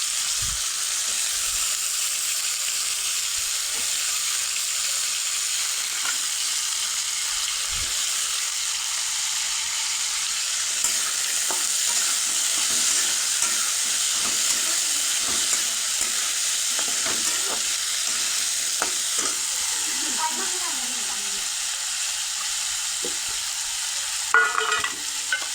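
Onion and potato fry in a pan with a loud, steady, broad sizzle that runs unbroken throughout, with faint scraping and stirring taps scattered underneath and a few clatters near the end.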